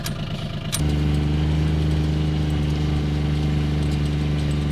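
Gator utility vehicle engine starting up and then idling at a steady, loud, close rumble with an even mechanical pulse and no talk.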